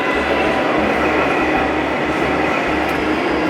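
A Märklin 1-gauge model electric locomotive in Austrian livery runs on a toy fair display layout, giving a steady rolling rumble with faint rhythmic wheel clicks under a noisy hall background.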